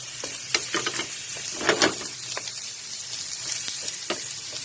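Chopped onions sizzle in hot olive oil in a pan used for cooking baby squid with garlic, giving a steady close-up crackle with brief louder spits and pops and no talking.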